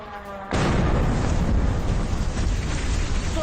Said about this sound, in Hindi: एक बड़ा धमाका हुआ।